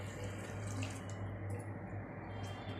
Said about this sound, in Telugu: వైట్ వెనిగర్ 1 కప్ యాడ్ చేస్తున్నాను